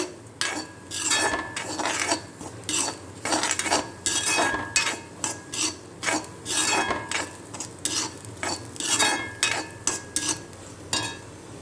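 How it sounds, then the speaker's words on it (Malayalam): Grated coconut being roasted in a pan gives repeated scraping and stirring strokes of a spatula on metal in an uneven rhythm, over a soft dry sizzle, close and fairly loud. "നമുക്കിത് മൂപ്പിച്ചെടുക്കാം നാളികേരം നന്നായി മൂത്ത് വന്നിട്ടുണ്ട്"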